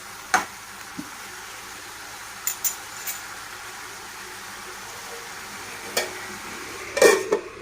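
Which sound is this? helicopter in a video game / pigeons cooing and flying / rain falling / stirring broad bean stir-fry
stirring broad bean stir-fry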